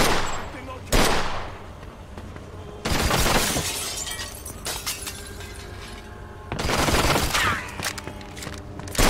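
Gunfire in the crime shooter Mafia II Definitive Edition, with loud bursts of automatic fire and shattering glass in several waves, while voices shout between the volleys.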